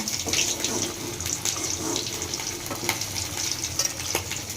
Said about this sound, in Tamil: நல்லா எண்ணெய் வந்து காஞ்ச உடனே மீனை தூக்கி உள்ளே போட்டு பொறிச்சோம்னா சூப்பராக முறுமுறுன்னு வரும்